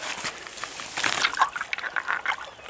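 Creek water trickles and splashes softly over rocks, a steady gentle flow with a few brighter bursts in the middle, no voices.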